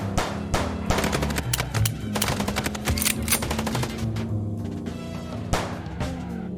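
Rapid bursts of gunfire from the Chicken Police video game crackle densely throughout, dense volleys with sharp transients over a low steady game soundtrack, loud and close with no talk.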